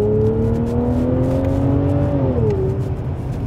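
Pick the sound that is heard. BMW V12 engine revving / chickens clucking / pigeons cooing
BMW V12 engine revving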